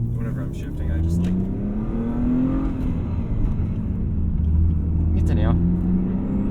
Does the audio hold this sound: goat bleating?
no